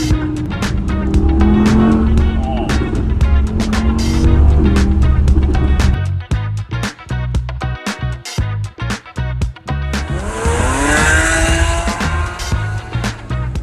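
An Audi R8 sports car on a drive, its engine roaring steadily at first, then breaking into a run of sharp revving bursts and pulses with some tire noise, loud and close, without speech.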